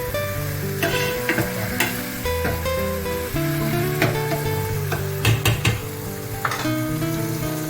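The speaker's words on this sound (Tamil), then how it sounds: "தக்காளி, வெங்காயம், பச்சை மிளகாய் எல்லாம் எண்ணெயில் போட்டு" Tomato, onion and green chilli frying in oil, a loud sizzle with scraping stirs and clinks of a spoon against the pan, plus a steady background tone, with no one speaking.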